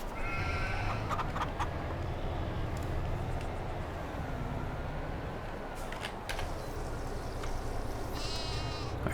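Sheep bleating in the farming game Farming Simulator 22, a few short bleats near the start and end over a steady farm ambience, moderately loud, with no talking.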